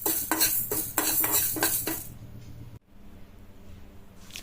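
Fenugreek seeds roasting in a pan on the stove: a run of sharp metallic scrapes and clinks from stirring, about five strokes in the first two seconds, then a quieter, low hiss with faint rattling.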